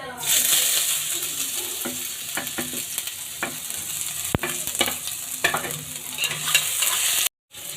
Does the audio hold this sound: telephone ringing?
no